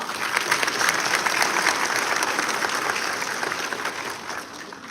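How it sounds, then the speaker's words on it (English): Sustained, dense audience applause at a constitutional lecture series in a hall, even and continuous throughout with no talk over it. "A huge round of applause for her."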